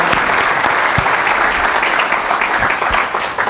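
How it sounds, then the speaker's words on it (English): A joint round of applause for sponsors at a San Diego investment club meeting: loud, dense clapping from a crowd, sustained evenly for the whole few seconds with no talk over it. "if we can just do a joint round of applause for all the sponsors that help make this possible"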